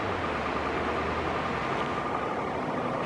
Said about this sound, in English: And you can see the tram right there going.